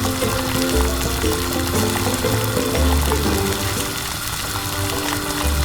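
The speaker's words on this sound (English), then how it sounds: "When the water boils, we pour the snails into the pan." Snails poured into a pan of boiling water, a continuous bubbling, hissing wash of liquid noise, close and steady throughout with no voices.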